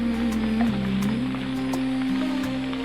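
Rain falls steadily, a soft continuous patter with scattered drops tapping nearby, under a low constant hum.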